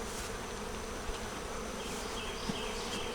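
Honey bees buzzing steadily around a hive with frames of foundation, a dense, continuous drone close by with individual insects flitting past, no voices.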